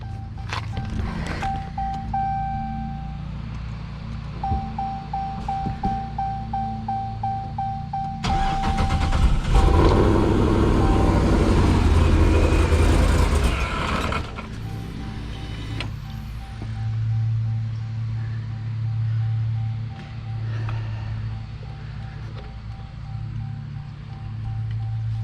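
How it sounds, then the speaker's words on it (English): A car engine cranks and fires after an injector repair, preceded by a chiming warning tone, then a loud close burst as it catches, followed by a steady idle. "let's start it up and see what happens"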